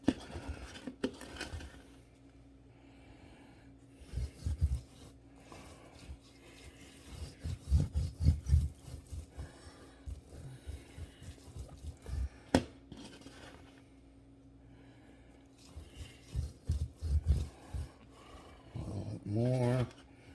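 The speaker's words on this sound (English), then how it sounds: "spice, dry rub here." Dry spice rub is rasped and rubbed by hand onto baby back ribs in a quiet kitchen, coming in soft, uneven bursts of scraping with short pauses between them.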